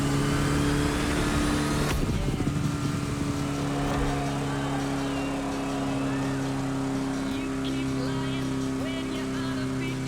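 An old, slow grandma's car in The Crew Motorfest racing game drones with a steady buzzing engine note after a loud opening burst, holding a constant pitch throughout.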